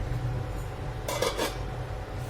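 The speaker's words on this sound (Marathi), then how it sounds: "मी याच्यावर झाकण ठेवते आहे" A metal lid set down on a pan of cluster bean curry on the stove, a short clattering clink of metal on metal over a low steady hum.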